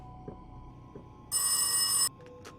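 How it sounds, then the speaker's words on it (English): A telephone rings once in the horror video game Rise of Insanity, a steady bright electronic trill lasting under a second, loud and close, over a quiet ambient hum with a few faint footsteps. "Oh, the phone's ringing."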